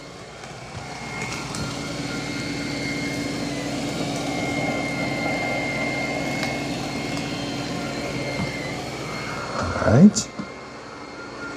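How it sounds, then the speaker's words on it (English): A Roborock Q10 X5+ robot vacuum cleans the floor with a steady mechanical hum and whir throughout, a brief louder bump near the end, and someone speaks briefly over it. "but it's doing a good job of vacuuming."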